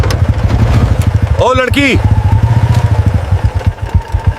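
Motorcycle engine idling at a police checkpoint, a steady low chugging beneath loud shouted voices; a short horn-like tone sounds midway while people talk throughout.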